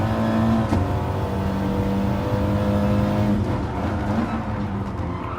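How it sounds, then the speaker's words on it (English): Race car engine in a racing video game at Bathurst, dropping three gears in quick succession under braking, loud and continuous with steady engine drone and rising, falling tones. "Down 3 gears very quickly there, like his style."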